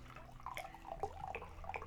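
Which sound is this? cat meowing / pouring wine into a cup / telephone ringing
pouring wine into a cup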